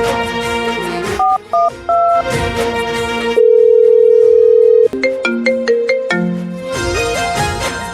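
A phone call being placed in a Gujarati drama scene: a melodic ringtone-style tune and steady keypad dialing tones, with a long flat tone in the middle and a quick run of separate beeps after it. Loud and clear, with no voices.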